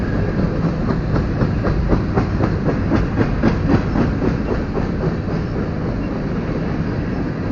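A long BNSF freight train rolls steadily past close by, with a continuous loud rumble and rhythmic clickety-clack of wheels over rail joints throughout.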